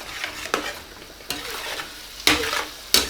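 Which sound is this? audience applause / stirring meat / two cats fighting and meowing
stirring meat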